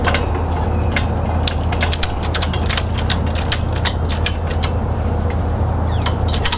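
Strap being tightened on a CAMMOO hydraulic truck bed crane, with repeated sharp ratcheting clicks in irregular bursts over a steady low hum, close and loud.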